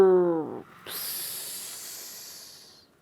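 A voice imitates heavy snoring of a man sleeping on his back: a short growly rolling rasp, then a long airy hissing breath out that slowly fades.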